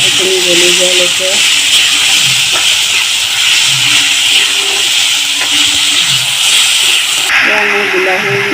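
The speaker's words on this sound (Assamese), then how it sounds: "এইখিনি ভাজি ল'ম বিলাহীখিনি গলি যোৱালৈকে" Tomatoes fry in a pan with a loud, continuous, close hiss of sizzling. A person talks over it at times.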